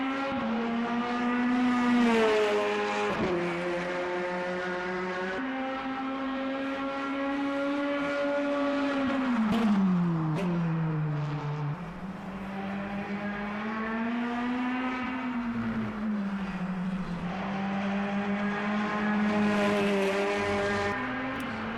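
Current-spec GT3 race cars in the Le Mans Ultimate sim racing game, their engine note loud and continuous, pitch climbing and dropping through gear changes and corners, with no talking.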